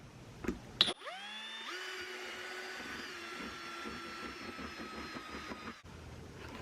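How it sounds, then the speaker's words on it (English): A power drill spins up with a rising whine and runs steadily for several seconds, its pitch shifting as it bites into material, close by. "I'm gonna drill"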